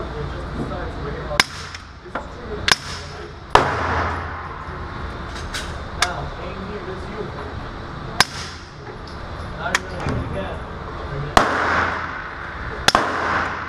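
Suppressed Glock 17 pistol shots ring out one at a time with gaps between them, seven or eight sharp cracks over steady background noise.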